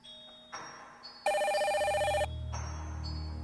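A telephone rings at dinnertime in a countryside family home, with one loud, trilling burst of electronic ringing between quieter tones, and no one speaking.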